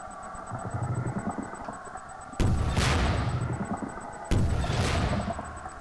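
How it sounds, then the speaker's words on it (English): Two bombs go off in Garry's Mod on an underground horror map, each one a sharp, loud boom that rumbles away. The two blasts come about two seconds apart over a low, continuous background hum. "I'm just throwing bombs."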